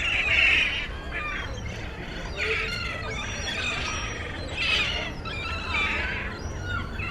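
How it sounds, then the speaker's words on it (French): A large flock of seagulls at the seaside in Póvoa de Varzim, Portugal, calling with repeated overlapping squeals and squawks, some birds close and loud overhead, others further off, over a steady low background rumble. "Est-ce que vous avez vu déjà autant de mouettes au même endroit?"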